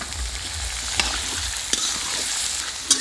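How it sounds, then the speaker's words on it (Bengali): Ginger and green chilies fry in a pan, giving a steady bright sizzle with a few sharp clicks of stirring, close and loud with no voices. "এরপরে আদা দিয়ে দিচ্ছি আদা আর কাঁচা লঙ্কা এখন ভালো করে ভেজে নেব"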